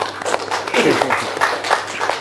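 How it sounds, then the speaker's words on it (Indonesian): Applause from an audience at a vocational high school event in Malang, a dense burst of many hands clapping with some voices mixed in, fairly loud and sustained. "Tepuk tangan dhisik"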